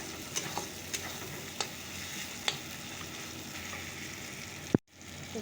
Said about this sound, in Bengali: হ্যাঁ কষানো প্রায় হয়ে গেছে